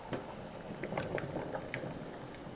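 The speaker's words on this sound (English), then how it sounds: "Now I will put this in my pot of boiling water to let the beeswax melt." A pot of boiling water melting beeswax bubbles quietly, with soft irregular pops and gurgles over a low steady simmer, no speech.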